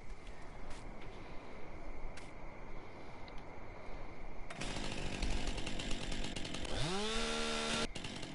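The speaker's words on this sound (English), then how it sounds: "Forgot I had a chainsaw with me." A chainsaw in a farming simulator game, starting up at mid-clip and running loud and steady before revving, with a rising whine near the end, over constant background engine hum.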